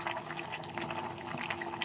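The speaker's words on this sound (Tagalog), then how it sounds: "Kumukulo na" Adobo sauce with intestine and liver bubbles at a steady simmer in a cooking pot, producing a continuous close, moderately loud boiling and gurgling with no talk.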